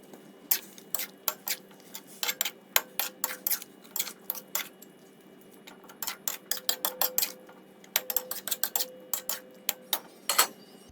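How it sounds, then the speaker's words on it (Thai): Utensil stirring vegetables in a pot of Thai glass noodle soup with pork ribs, heard as a steady run of sharp metallic clinks and taps against the pot, loud and close, with no talking. "แล้วก็คนนะคะให้ผักเขาสลดค่ะ"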